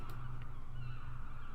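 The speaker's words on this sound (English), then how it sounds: "Many birds circle in the sky overhead" Birds over a beach in the game The Last Door give faint goose-like honks and calls above a low steady ambient drone, with no voices.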